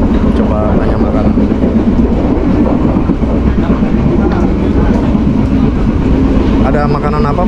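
Steady rumble and rattle of an economy-class carriage on the Airlangga train from Jakarta to Surabaya rolling along rails, with rhythmic clatter underneath and voices talking over the constant noise.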